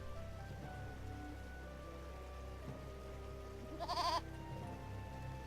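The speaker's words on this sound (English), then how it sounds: "they're not just normal goats, they're goats with wings" A winged goat in the video game Eternal Sonata gives a single short bleat near the end, rising briefly over a quiet, steady game ambience.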